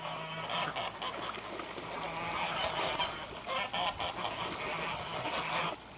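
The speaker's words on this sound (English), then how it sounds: "there is a happy gaggle of geese and a happy flock of ducks" A gaggle of geese honking with a flock of ducks quacking at a homestead farm pond in spring, loud overlapping bursts of calls close by that repeat throughout.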